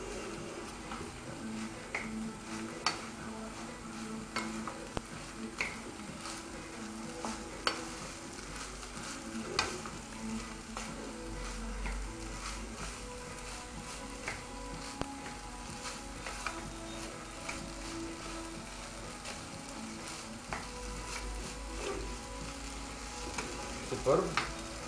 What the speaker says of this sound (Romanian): Și amestecăm.